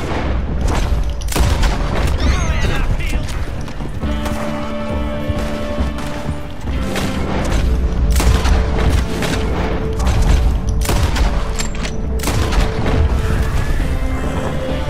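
Red Dead Redemption 2 gunfight: repeated loud gunshots and booming blasts crack through the whole stretch in irregular bursts, over a dense game soundscape with a musical drone underneath.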